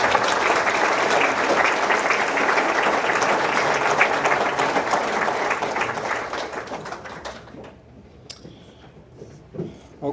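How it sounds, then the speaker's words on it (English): An audience at a college dean's breakfast gives loud, dense applause for a retiring staff member; the clapping holds steady for about seven seconds, then thins to a few scattered claps and quiet room noise. "So big round of applause for Nita."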